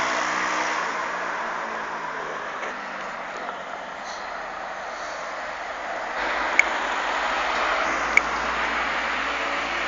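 A race motorcycle engine warms up before a race, holding a steady, fairly loud idle drone with mild rises in revs and two sharp clicks near the end.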